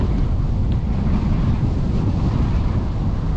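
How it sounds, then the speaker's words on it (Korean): Steady wind buffeting outdoors, a continuous loud rumbling roar across the microphone with no pauses and no voices. "오 바람."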